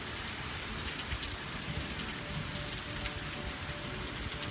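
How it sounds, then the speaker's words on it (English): Heavy rain pouring down steadily outdoors, a dense continuous hiss of drops hitting surfaces with no pauses. "it's really raining"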